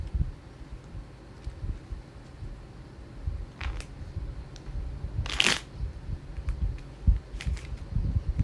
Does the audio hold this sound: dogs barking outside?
no